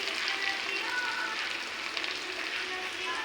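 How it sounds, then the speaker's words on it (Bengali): Potatoes fry in a pan of hot oil for an omelette and potato curry, giving a steady, close, broadband sizzle that holds evenly from start to finish. "আলু ভেজে নিচ্ছি"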